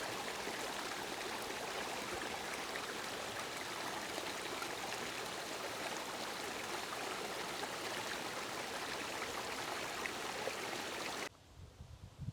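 A babbling rainforest brook flows steadily, a continuous wash of rushing, trickling water with no voices, cutting off abruptly near the end.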